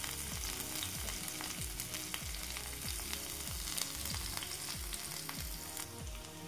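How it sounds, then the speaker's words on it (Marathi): Onion and fenugreek leaves frying in a mustard-seed and cumin tempering, a dense steady sizzle with rhythmic stirring scrapes throughout, close and continuous with no talk. "कांदा आणि मेथी घालून घेते. छान भाजून घेते मेथीला पण कांद्यामध्ये."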